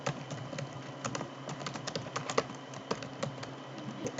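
Rapid keystrokes on a computer keyboard while code is written for a Django and Python web project, an even, continuous clatter of close, moderately quiet key taps with no talking.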